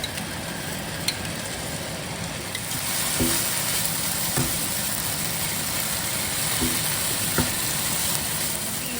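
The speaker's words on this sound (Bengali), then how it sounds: "এই সসটা বানিয়ে রেখেছি সসটা আমি এতে অল্প অল্প করে দিয়ে দেবো আর দিয়ে নাড়তে থাকবো" Manchurian fries in a pan as chilli and soy sauce are stirred in, a steady broad sizzling hiss with occasional spatula taps against the pan.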